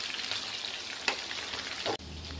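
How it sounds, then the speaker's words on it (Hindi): Fish frying in a small, crowded kadhai gives a steady close sizzle with a brief clatter partway through. "आज फिश फ्राई हो रहा है"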